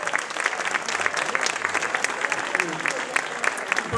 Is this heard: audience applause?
yes